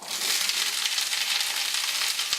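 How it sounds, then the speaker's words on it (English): Asparagus hits hot oil in a pan for quinoa primavera, giving a loud, bright, continuous sizzle with a couple of faint taps from the pan, and no talking. "So we're ready to go in with our asparagus"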